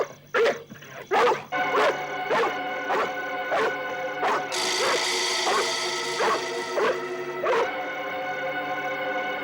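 A dog barks repeatedly in rhythmic, close, loud yelps with some whimpering, no talking over it.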